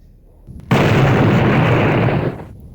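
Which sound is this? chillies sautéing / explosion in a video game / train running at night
explosion in a video game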